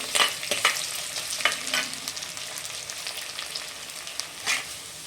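Onions and curry leaves sizzle in a pan for a horse gram curry, with a steady crackling fry punctuated by several sharp scraping stir strokes, close and fairly loud, with no voices.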